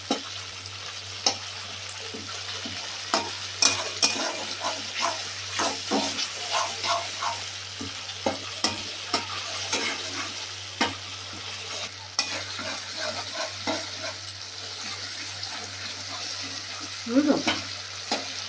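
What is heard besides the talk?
stirring tomatoes frying in a pan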